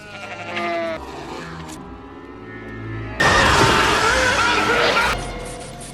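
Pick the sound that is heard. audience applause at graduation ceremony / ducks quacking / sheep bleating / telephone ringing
sheep bleating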